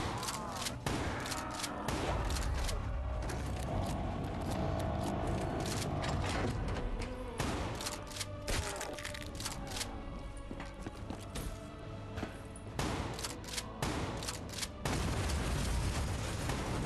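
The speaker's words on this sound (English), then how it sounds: "Oh, shotgun." Shotgun blasts and heavy gunfire crack through a firefight in Call of Duty: Black Ops III, with repeated loud bursts over a busy, constant game soundscape.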